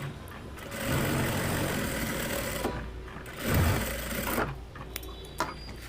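A sewing machine runs in two long stretches with a short pause between them, stitching a blouse lining with small stitches along the bottom edge; the motor sounds close and steady.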